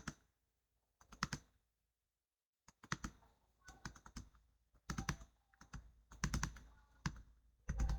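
Keyboard typing while entering text into cells of an Excel spreadsheet: quiet bursts of clustered key clicks separated by short pauses, close and alone, with a near-silent gap early on.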